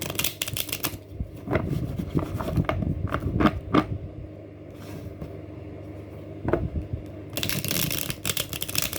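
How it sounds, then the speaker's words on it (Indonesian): Tarot cards being shuffled by hand, a soft riffling and clicking that comes in short bursts over a low background hum, with a brief lull midway before the rustling resumes. "kocok kartunya"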